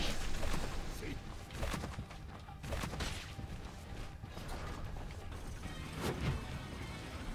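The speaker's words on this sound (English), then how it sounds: "Someone's being a bit loud with the doors." Heavy doors grind and creak open in Bloodstained: Ritual of the Night, a dense, loud mechanical rumble with ratcheting clanks and repeated thuds that swell around the second, third and sixth seconds, with talk over it.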